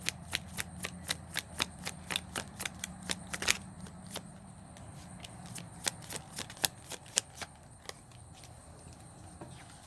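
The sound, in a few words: tarot cards being shuffled and pulled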